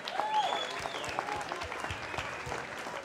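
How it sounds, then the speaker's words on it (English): At a fight night event, a crowd gives a round of applause for the organisers, a sustained patter of clapping at moderate distance with faint whistles and cheers mixed in. "everybody, just like a big round of applause for Mark Michaels and all of his team for organising such a fantastic event"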